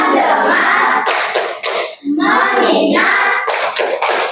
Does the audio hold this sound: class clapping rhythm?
yes